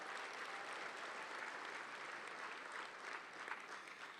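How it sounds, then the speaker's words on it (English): A round of applause for Lake Elsinore from an education event audience, an even, fairly distant wash of clapping that holds steady for several seconds and fades slightly at the end. "Let's give Lake Elsinore a big round of applause."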